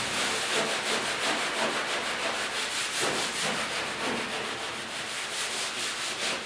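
Steady, continuous rubbing as car paint on the hood of a 1956 Mercury project car is cleaned before clear coat, a close, dense, even scrubbing that continues for the whole stretch without any talking.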